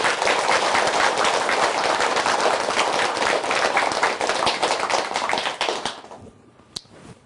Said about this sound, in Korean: 우리 큰 박수 우리 부탁합니다